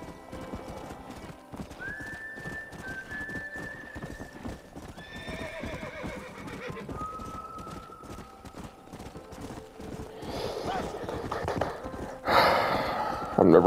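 In Red Dead Redemption, several horse whinnies ring out over steady hoof clip-clops, with rising background noise and a louder burst near the end.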